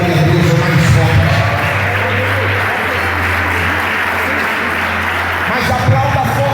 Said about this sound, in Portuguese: aplaudam a Jesus e dê glória a Deus mais forte